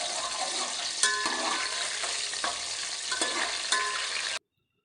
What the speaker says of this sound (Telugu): నూనె కాగిన తర్వాత దాంట్లో పచ్చిమిర్చి వేసుకోవాలి